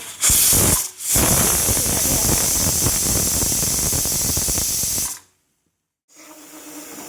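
A pressure cooker of rajma masala vents steam in a loud, steady hiss. A brief burst is followed by a short gap, then a long continuous release of about four seconds. It stops abruptly, and after a moment of silence quieter noise returns.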